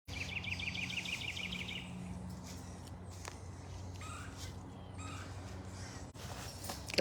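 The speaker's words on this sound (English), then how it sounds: "A lot of bird sounds going on." Faint birds chirp in the distance at Big Cat Rescue, a big cat sanctuary, including a quick repeated trill and a few scattered calls, over a low background hum.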